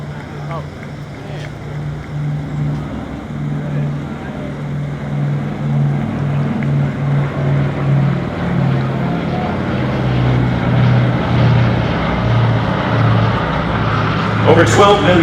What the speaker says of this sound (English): here comes the B-29